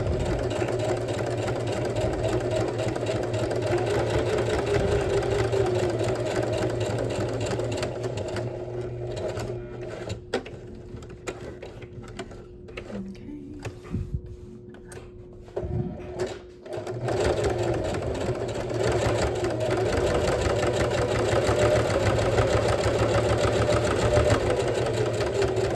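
A sewing machine runs a basting stitch on a pair of heritage overalls, humming loud and close at a steady pace, with a brief stop-start stretch in the middle before it resumes running continuously.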